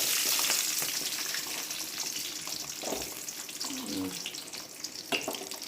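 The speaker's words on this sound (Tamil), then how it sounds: "இந்த வெங்காயம் வந்து நல்லா வந்து வதங்கி வரட்டும்" Onions frying in oil with fennel seeds in a home kitchen pan, a steady broadband sizzle with brief stirring and scraping sounds layered over it, close and moderately loud with no talking.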